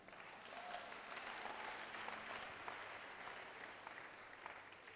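A church congregation at an anniversary and homecoming convention claps together in a continuous, even patter of applause, faint and distant throughout with no clear speech.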